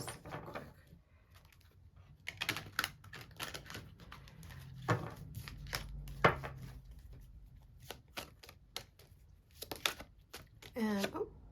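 Tarot cards are shuffled quickly at close range: rapid riffling bursts and soft slaps in irregular clusters, with brief speech in between.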